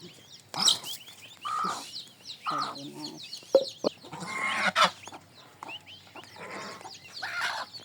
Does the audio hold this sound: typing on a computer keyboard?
no